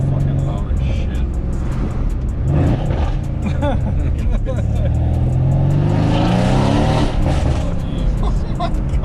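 A Mercedes-AMG W205 C63S with its V8 revving loud and close, the engine note rising and falling through hard pulls and drift runs while people talk excitedly over it.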